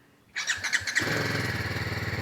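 A BMW G 310 GS motorcycle with a liquid-cooled engine cranks with a few quick starter whirs, then fires and settles into a loud, steady, close-up idle with an even pulsing rhythm.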